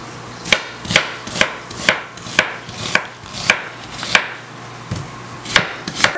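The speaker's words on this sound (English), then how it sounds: "I'm gonna start with my onion. Cut my onion up." A knife chops onion on a board in a steady series of about a dozen sharp, close taps, evenly spaced with brief pauses, while a voice speaks a few words over the start.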